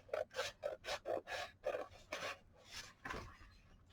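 A paper gift bag is trimmed with quick, close, quiet strokes, about ten rhythmic rasping cuts in a row.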